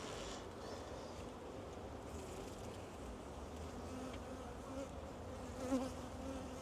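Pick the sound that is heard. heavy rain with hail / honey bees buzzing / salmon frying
honey bees buzzing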